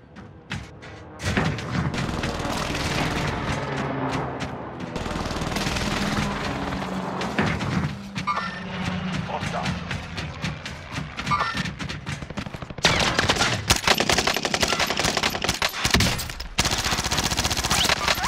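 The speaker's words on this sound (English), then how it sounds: "Receiving hostile fire." Hostile gunfire in a video game rattles in dense bursts of rapid shots and heavy thuds, near and loud, with sustained machine-gun clatter growing more intense toward the end.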